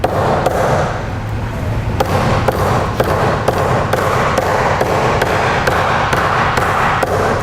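Sharp, loud thuds from a kitchen tool used as a hammer crack a cooked lobster claw, striking repeatedly in a fairly even rhythm close by with little else heard.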